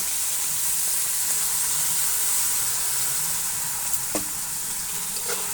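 Steady sizzling from a pan of sautéed vegetables for khichuri, with a few scraping clicks near the end as rice is poured in and stirred; continuous, fairly loud hiss with no voices.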